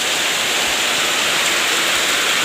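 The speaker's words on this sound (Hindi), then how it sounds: "देखो हवा भी तेज़ से हो रहा है, बारिश भी हो रही है, पानी गिर रहा है बहुत ज़्यादा" Heavy rain pours down with a strong wind on a village rooftop, a dense, steady roar of broadband hiss filling the whole clip without a break, loud and close.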